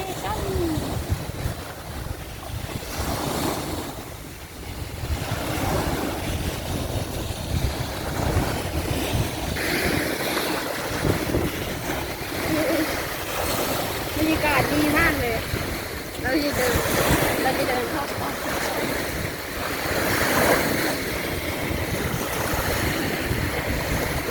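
Ocean waves wash continuously onto Ban Krut beach in Prachuap Khiri Khan, Thailand, with a steady, rushing roar and some wind, while a person talks over the surf.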